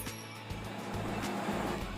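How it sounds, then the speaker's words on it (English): Road traffic with cars passing, a continuous engine and tire roar with rising and falling swells, fairly loud and close throughout. "traffic noise."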